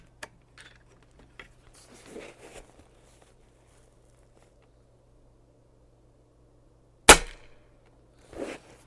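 A single sharp, loud crack from a Diana XR200 .30 caliber air rifle, close to the microphone, set among quiet handling clicks and small rustles.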